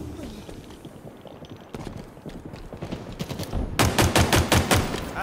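Pistol fire in Halo Infinite multiplayer: scattered single shots at first, then a quick rhythmic volley of loud, sharp cracks near the end, over game noise.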